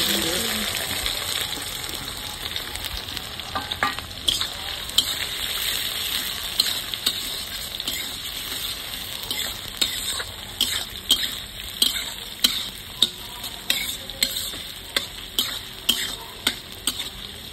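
Dried red chillies, cumin and onion fry in hot oil in a pan for a homemade chicken curry, giving a steady sizzle with repeated sharp clicks and scrapes of stirring that grow more regular toward the end.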